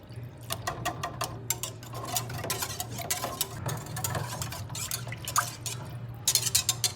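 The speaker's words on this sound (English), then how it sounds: "Alright, we need to stir." Ingredients are stirred together in a bowl, giving rapid ticking clinks and scrapes in uneven bursts over a steady low hum.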